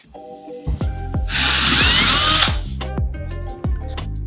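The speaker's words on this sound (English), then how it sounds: "Now you take drill bit and drill on those marks you just made." A power drill bores holes into a wall with a drill bit, a loud sustained grinding whine lasting about a second mid-clip, bracketed by short revving bursts and trigger pulses, with no talking.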